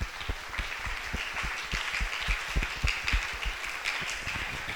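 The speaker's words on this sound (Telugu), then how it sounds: "గట్టిగా దేవునికి చప్పట్లు కొట్టాలి" Audience at a church festival in Bobbarlanka claps for God, a dense run of quick, uneven hand claps that carries on steadily throughout, moderately distant and without speech.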